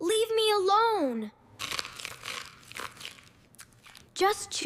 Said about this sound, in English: Just chewing a little bit.